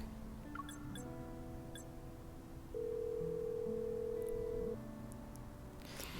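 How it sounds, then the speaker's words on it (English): A phone call in a video game rings out unanswered: a steady electronic ringing tone holds for about two seconds among soft layered game tones and faint background hiss. "I try calling Caleb, but he doesn't answer the phone after 2 rings."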